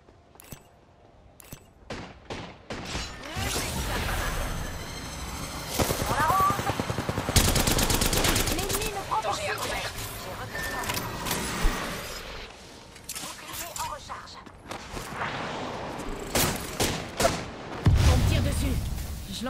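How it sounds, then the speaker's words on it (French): Gunfire in the Apex Legends video game: repeated bursts and single shots over several seconds, some sharp and close, with explosions, mechanical effects and occasional voices mixed in. "Je me fais tirer dessus."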